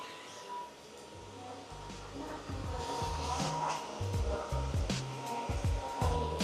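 A DRYFT commercial floor cleaning machine runs with a steady motor whine and low rumbling, moderately loud and close, pushing along as it works into corners of a station floor after picking up spilled liquid.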